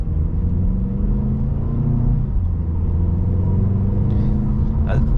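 A 2023 Mercedes CLA 250 with its 2.0-litre engine gives a steady, deep, low rumble while driving, heard from inside the cabin, with a brief rising rev near the end.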